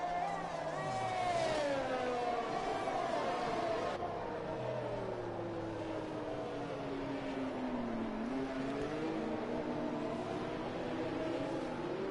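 Formula 1 race cars in an F1 racing game on PlayStation, at a Singapore race, whine and rise and fall in pitch as engines rev, with a commentator talking over them.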